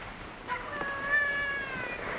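A kitten gives a single drawn-out, rising and falling meow, fairly clear against a quiet indoor background.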